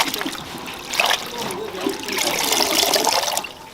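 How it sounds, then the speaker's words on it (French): Spinach leaves are rinsed in water, with sloshing, trickling and splashing that swells and ebbs over a few seconds, close and moderately loud. "Je rince mes légumes."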